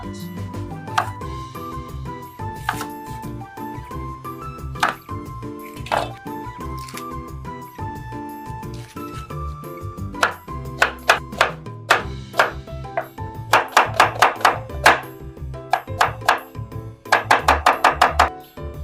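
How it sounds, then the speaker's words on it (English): An onion is chopped on a board with a knife, giving scattered knocks that build into rapid runs of crisp taps near the end over a faint tonal background. "In all seriousness, this is how I cut my onions."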